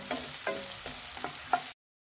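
Onion and dried red chilli fry quietly in a pan for a vegetable palya, with a soft continuous sizzle and a few light stirring scrapes, brief and without talk.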